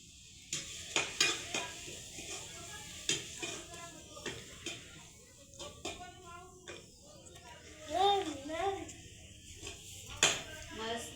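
Gram flour roasting in oil in a pan over a wood-fired stove, with faint sizzling and intermittent scraping and stirring strokes of a utensil against the pan, while a voice speaks over it.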